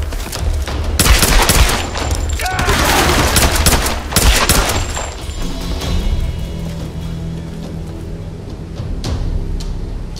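Rapid bursts of gunfire from the Tomb Raider 2013 video game crackle loudly and densely in the first half, then thin out to scattered shots over a lingering rumble.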